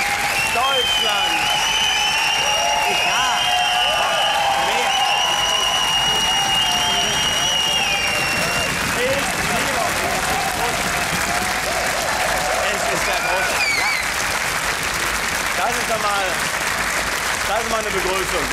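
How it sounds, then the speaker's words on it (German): A television studio audience on a comedy talk show applauds and cheers loudly and continuously, with whistles and shouts rising over the dense clapping; the roar stays strong throughout and a voice may be faintly mixed in. "Das ist ein echter Superstar-Applaus."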